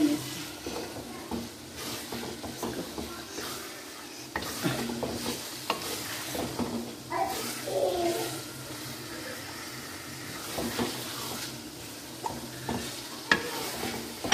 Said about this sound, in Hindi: हम इसको थोड़ा सा भुनेंगे चूल्हा तेज कर दिया